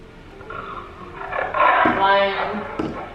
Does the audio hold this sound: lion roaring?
yes